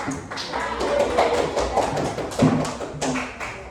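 Group applause in a classroom during a teacher-training informatics lesson, many hands clapping in a steady, dense patter with a few louder claps standing out, sustained throughout.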